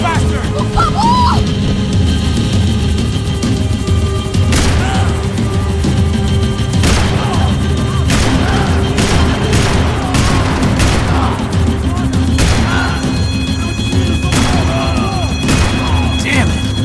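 Gunfire in a Max Payne 3 shootout, with sharp repeated shots and heavy booms and crashes landing irregularly over a rumbling background, loud and close, with shouted voices mixed in.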